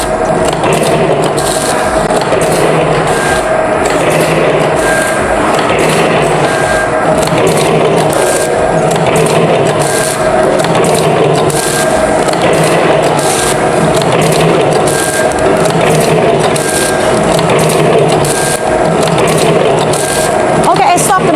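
Automatic vertical sachet packing machine (ATM 320D) filling small powder sachets with vertical side sealing, end sealing and date printing, running steadily with continuous dense mechanical rattling and clicking, loud and close throughout.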